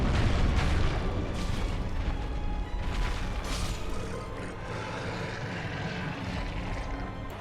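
A demon boss goes down in the video game Dark Souls 1 amid a loud, continuous rumbling roar with booming bursts that slowly fade.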